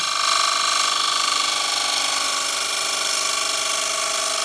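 A woodturning chisel making a fine cut on a spinning lathe, heard as a steady, loud, continuous whirring hum with a dense high-pitched hiss of the blade against the wood, unbroken throughout.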